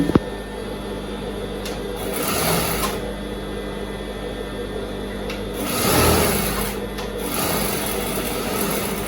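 Sewing machine stitching cloth, a steady mechanical whir running throughout with a few swells and brief pauses as the fabric is lifted and repositioned, close and fairly loud with no talk.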